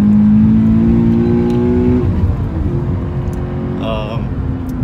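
A 2018 Toyota GT86 with a naturally aspirated 200-horsepower engine revs loudly and steadily up close, its pitch holding and then dropping slightly before a brief higher whine near the end.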